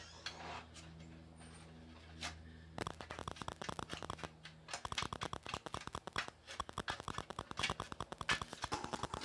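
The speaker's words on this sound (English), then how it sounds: "I got me some tin snips. So I'm going to snip it out real quick." Tin snips cut the bottom out of a metal bucket with a dense, rapid run of loud, sharp metallic crunching snips that speeds up and continues steadily. No voices.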